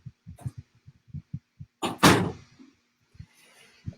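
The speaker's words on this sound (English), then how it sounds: "Shut the door, please." A door thuds shut close by after a few soft footsteps and light shuffling, with a brief rattle as it settles in a quiet room.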